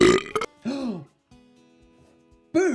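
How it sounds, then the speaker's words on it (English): A person voices a playful Play-Doh head toy being fed watermelon and lets out a drawn-out burp, with a voice speaking just before and after it. "Did you just burp?"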